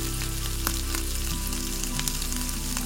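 Cut potatoes sizzling in hot mustard oil tempered with dried red chillies and panch phoron, a steady close frying crackle with a few sharp pops throughout, no talking.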